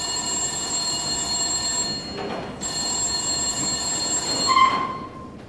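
A telephone bell rings in two steady bursts with a short gap between them, alone and fairly loud, in a radio-drama style staged scene.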